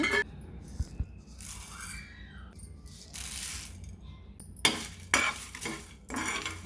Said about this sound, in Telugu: గ్యాస్ ఆన్ చేసుకుని పలావ్ సామాన్లన్నీ వేసుకుని లైట్గా వేగనివ్వాలి